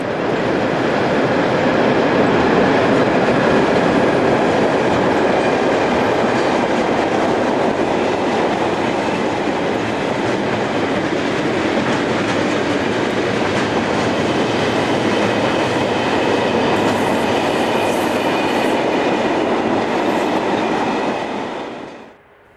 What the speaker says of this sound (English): 151024 heads this northbound freight through the station.